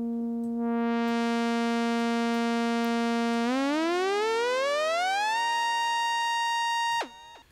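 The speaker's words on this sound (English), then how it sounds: "as that pitch increases, you get this nice kind of blurred, smeared sound" Synth oscillator tone holding steady, then gliding upward in pitch while a tempo-synced stereo delay smears it into blurred, overlapping echoes, loud and sustained for about seven seconds before a sharp cutoff.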